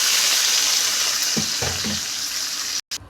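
Onions frying in a pan for egg curry give a steady close sizzle, with a few soft stirring scrapes partway through and a brief drop-out near the end; no talking.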